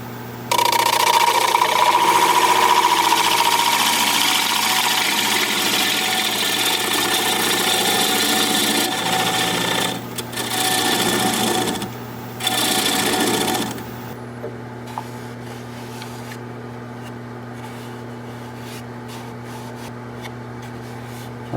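Wood lathe spinning a junk wood bowl during a cleanup pass hums steadily and loudly, with the tool's scraping rasp over the motor drone, fluctuating briefly before the cutting noise fades and the motor runs on alone.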